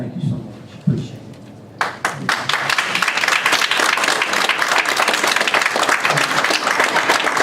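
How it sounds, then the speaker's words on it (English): Crowd at a city council meeting in Irondale breaking into applause after a speaker, with scattered first claps building quickly into loud, sustained clapping, and voices heard at the start. "it's not the place to be clapping for anything to say"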